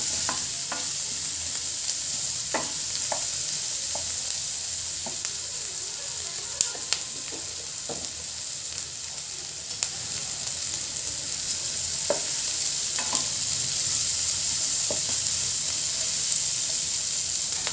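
Green chillies and tomato fry in a pan for Dhaba-style egg keema masala, giving a steady, close sizzle with scattered clicks and scrapes of stirring throughout.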